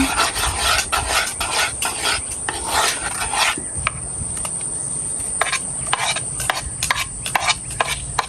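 Maruya batter being stirred by hand in a bowl, heard as close, rhythmic scraping and rubbing strokes repeating steadily for several seconds, with no talking.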